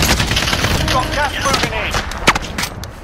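Call of Duty Warzone gunfire, rapid clattering shots crackling under people talking, with one sharper crack near the end.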